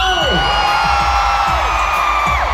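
A concert crowd of fans shouts and cheers loudly, a dense roar of screaming voices with high rising and falling shrieks over a steady low thumping beat.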